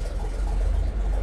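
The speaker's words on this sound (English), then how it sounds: "Powerful sounding engine." A rare World War Two tracked vehicle's engine runs close by with a deep, continuous, throbbing low rumble, steady and alone.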